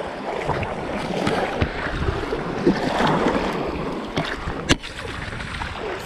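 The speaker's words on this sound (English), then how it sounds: "Hope you guys could hear me with all the waves in the background" Ocean waves wash onto a Sanibel Island beach in a steady, loud surf wash with wind buffeting the microphone, and a few sharp splashes or knocks stand out near the middle and end.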